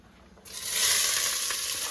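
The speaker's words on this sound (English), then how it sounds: "Ooh, lots of sizzle. And we're gonna fry it" A loud burst of sizzling as chopped onion hits hot oil, then a steady, close frying hiss that continues.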